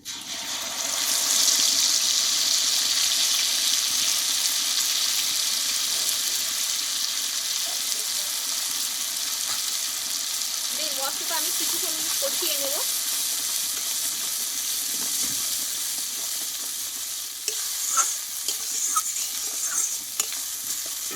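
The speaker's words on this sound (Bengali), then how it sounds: "মশলাটা আমি কিছুক্ষণ মতো কষিয়ে নিয়েছি" Spice paste for a chicken curry fries in a pan with a steady loud sizzle, broken by scraping stirs and a few clinks of a utensil against the pan toward the end.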